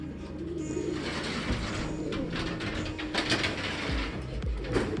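A racing pigeon hen cooing in a loft, soft low throaty calls mixed into a busy rustling background with mechanical noise, fairly close and without talking.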